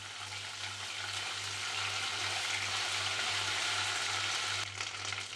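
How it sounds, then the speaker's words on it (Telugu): Ginger garlic paste frying with onions in a pan, a steady dense sizzle with a low constant hum beneath, continuous and fairly close with no talking. "కొద్దిగా వేసుకొని పచ్చివాసన పోయే వరకు బాగా ఫ్రై చేసుకుందాం"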